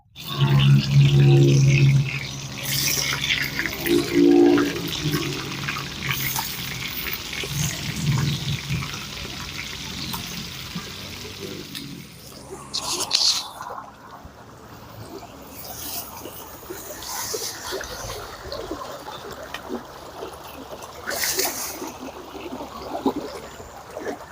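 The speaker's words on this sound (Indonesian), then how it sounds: "airnya deras banget" Strong, fast-rushing water gives a steady broadband roar that swells louder in the second half. Voices talk over it near the start.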